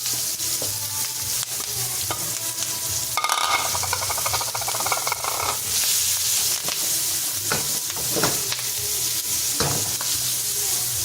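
Onions sauté in moderate oil in a pan that earlier pan-fried chicken, sizzling steadily and close, with a spoon stirring and scraping at intervals and no talk.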